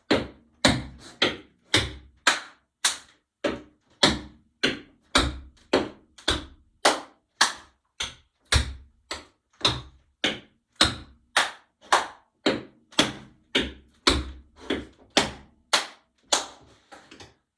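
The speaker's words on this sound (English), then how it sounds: "we'll do 3 heel balls, and then we'll just add a clap, clap" Tap dance heel-ball steps mixed with hand claps, played as a long, even run of crisp, close percussive hits in a repeating pattern, with no talking.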